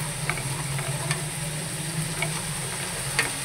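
Cornflour mixture being stirred into sizzling chicken jalfrezi in a hot pan, a steady frying hiss with a few soft scraping strokes of the spoon, close and moderately loud, no talking.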